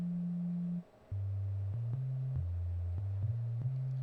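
Pure, smooth synth tones: a low steady pitch, a brief gap, then a sequence of deep sine notes stepping between pitches, each with a faint click.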